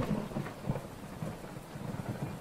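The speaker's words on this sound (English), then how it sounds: "That's thunder, right?" Stormy weather inside a bedroom in The Visitor virtual reality game: low rumbling thunder rolls continuously over steady rain, with a few swells of heavier rumble and no talking.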